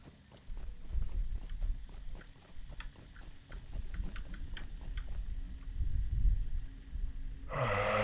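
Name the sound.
horse mount hoofbeats in video game Lord of the Rings Online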